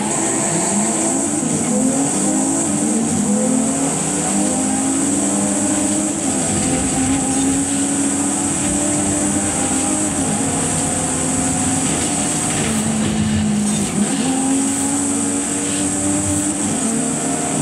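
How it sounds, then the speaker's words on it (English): A 2019 BMW Z4 Roadster racing in Forza Horizon 5: a steady, loud engine drone with rising and falling pitch through gear changes, carrying on without a break for the whole stretch. "Now the 2019 BMW Z4 Roadster is just so quick."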